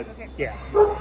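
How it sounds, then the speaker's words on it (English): Dogs give a few short yips and barks at close range, mixed in with a person speaking briefly. "sorry for the barking dogs."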